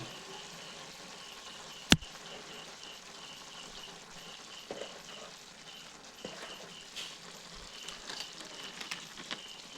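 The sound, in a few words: chicken sautéing in a pan with ginger-garlic paste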